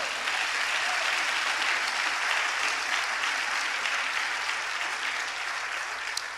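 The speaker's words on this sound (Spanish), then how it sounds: "Dele un aplauso al Señor." Church congregation applauding during a Spanish-language sermon, a steady, dense wash of many hands clapping that holds evenly throughout with no talk on top.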